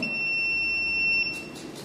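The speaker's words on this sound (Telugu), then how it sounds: "బజర్ అనేది మోగుతుంది, అలానే రెడ్ కలర్ ఎల్ఈడి అనేది వెలుగుతుంది" A buzzer on a radar-based detector circuit gives a steady, piercing electronic tone for just over a second and then cuts off, leaving faint background hiss.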